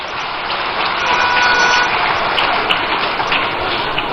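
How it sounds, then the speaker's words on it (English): Crowd applause for MPs at the NDC manifesto launch in Ghana, a loud sustained wash of clapping from a large audience that swells slightly midway and carries on steadily. "A round of applause for our gallant MPs."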